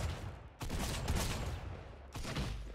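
Rapid shotgun fire from a blue drum shotgun with auto fire in a mobile shooter game, a dense, loud stream of blasts broken by a short gap before another volley.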